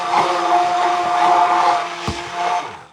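A cordless immersion blender whirs steadily while mixing a Mexican street corn pasta salad, its motor hum loud and continuous for most of the stretch, then a brief knock and a few quieter bursts before it stops.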